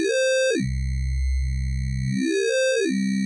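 A Fred's Lab Manatee synthesizer, its Spectral engine's formant parameter being swept, gives a buzzy tone whose pitch and vowel-like color glide down and back up smoothly, sustained and close, with no voice.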